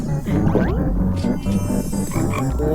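Frogs croaking in the Roblox game Bee Swarm Simulator, a loud, close run of repeated throaty game-frog croaks in quick succession with no talk.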